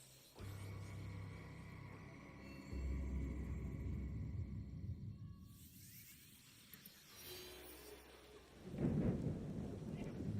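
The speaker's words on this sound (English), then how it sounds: "The storm rains a lot in this game." A thunderstorm in the video game Assassin's Creed Shadows: steady rain hisses beneath low rolling thunder that swells and fades, with a heavier rumble near the end and no talking.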